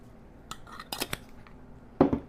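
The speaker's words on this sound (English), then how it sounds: "So we're going to beat up 4 eggs, 4 large eggs, or whatever you have" Four large eggs are beaten in a bowl for French toast: a handful of quick, light clinks and taps against the bowl in short clusters, fairly close, over near silence.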